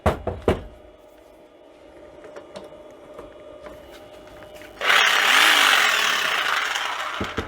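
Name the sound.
electric jigsaw (600 W) starting and cutting, powered by inverter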